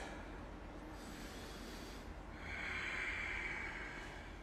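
Slow, deep breathing during a power vinyasa yoga hold, a faint steady airy rush that swells into a louder, longer exhale toward the end.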